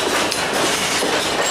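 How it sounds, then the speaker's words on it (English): An Ann Arbor Railroad grain train rolls past at close range, a dense, steady rumble of wheels and cars with faint clickety-clack throughout and no voices. "we are catching the Ann Arbor Railroad grain train heading towards Ann Arbor, Michigan"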